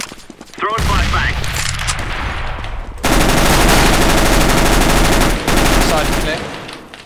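Decoy grenade in Counter-Strike imitating gunfire, with rapid loud bursts of automatic shots that run almost continuously and grow denser partway through, then stop abruptly near the end.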